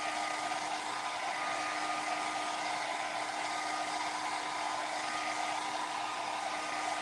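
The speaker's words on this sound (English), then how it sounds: "We're just having to use the hair dryer for" A hair dryer blows a constant, even whir while drying fresh paint on a piece of furniture, running steadily and alone without talking.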